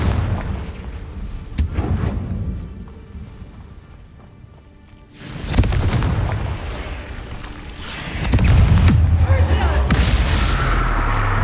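Confringo spell blasts in a Hogwarts wizarding video game, booming explosions with a heavy low rumble that swells twice and sustains, with a brief quieter lull between.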